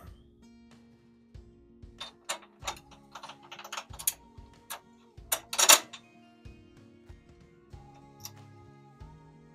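A ratchet tightens the back bolts on a DeWalt 10-inch job site table saw, with close, irregular bursts of clicking and metallic turning sounds between quiet pauses.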